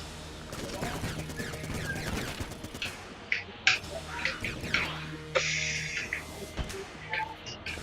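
Rapid gunfire bursts from the bullet-hell dungeon-crawler Enter the Gungeon during a boss fight, crackling in dense volleys with sharp impact pops and electronic chirps over a busy game soundtrack.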